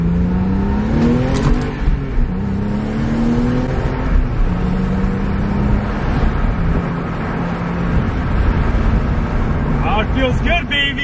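Repaired Porsche engine running and revving, a steady mid-low drone with rising pitch sweeps as the throttle opens, close and loud throughout with people talking over it.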